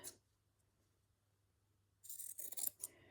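Scissors trimming quilt fabric during slow stitching, a short close snip at the start, then quiet with a low hum, followed by a burst of crisp cutting and rustling near the end, no voices.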